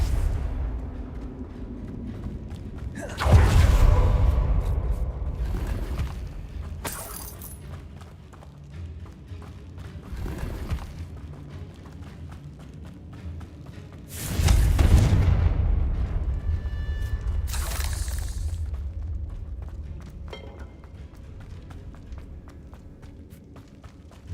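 Confringo blasting spells go off in Hogwarts Legacy, two loud booming explosions around the 3- and 14-second marks, each with a long rumbling decay, amid quieter game ambience and footsteps.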